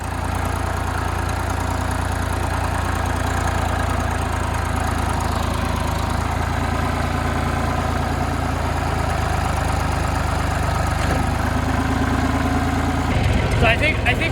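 A tractor engine idles steadily throughout, parked on wet ground with a low constant rumble, and a person talks over it.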